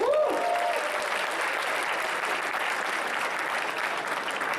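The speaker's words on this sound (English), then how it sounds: "let's give a round of applause for Red Bull" Loud, steady applause from a hackathon opening-ceremony audience, with a cheer or whoop at the start, filling the whole stretch as one dense, continuous roar of clapping.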